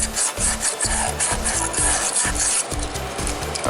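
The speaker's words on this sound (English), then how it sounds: "the inside of the wheel right there where it contacts the disc brake. Sand it good, make it really smooth" Hand sanding on the inside of a seized wheel where it meets the disc brake, a steady rhythmic scraping of about eight or nine strokes in a row, loud and close with no talk.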